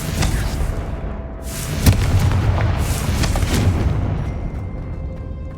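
Confringo fire spells blasting in Hogwarts Legacy produce a dense series of loud booms and explosive bursts that overlap into a continuous rumbling barrage.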